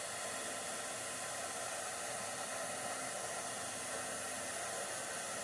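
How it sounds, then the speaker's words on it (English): A crafting heat tool blows steadily to warm up glue, giving a constant, even airy hiss at close range with no break or change in level. "That's the heat tool."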